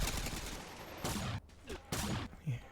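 Gunfire from a GTA video game crime scene, a few loud broadband bursts of shots in quick clusters over a steady game background, with brief voice-like sounds between them.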